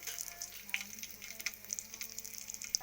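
Panch phoron and a bay leaf dropped into a little hot oil in a kadai crackle with a quiet, steady sizzle, sprinkled with scattered small pops.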